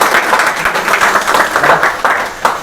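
A burst of applause at a study-centre event in Amravati: many hands clapping together in a brisk, dense patter, loud and close, lasting a couple of seconds.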